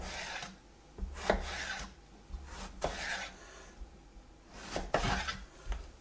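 A knife cuts eggplant strips into small pieces on a board, a few separate thuds and scraping chops spaced about a second apart, close and fairly quiet, with no talk.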